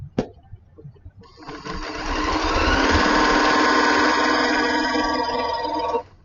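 A sewing machine stitching a quilt block, starting after a brief click and running in a loud, fast, steady whir for about five seconds before stopping abruptly.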